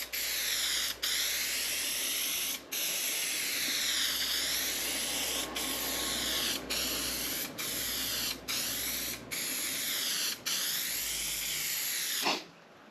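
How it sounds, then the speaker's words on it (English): Multi-purpose spray adhesive hisses from an aerosol can in long, steady bursts, briefly interrupted by short pauses, loud and close for about twelve seconds before stopping. "remember with any spray adhesive you have to allow it to tack off"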